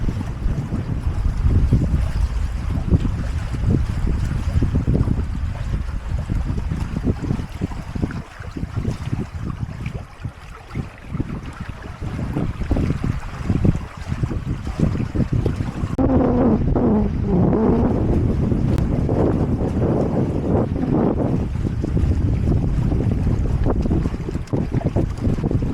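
Strong wind roars steadily around a sailing boat on a river under a tan jib, buffeting the microphone loudly and continuously with gusting surges and water noise, no voices.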